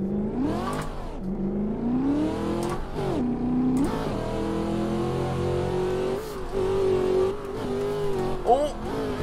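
A KNC Giraffe WagonFighter race car in a driving video game at Texas Motor Speedway, its boosted engine droning loud and close, pitch climbing and dropping through repeated revs and gear changes, with occasional brief tire noise.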